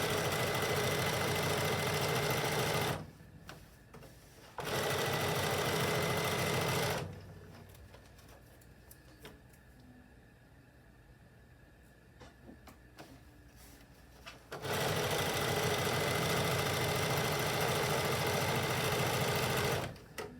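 Electric sewing machine stitching fabric in a home sewing studio, loud steady whirring runs in bursts of about three, two and six seconds with quiet pauses between, up close and alone.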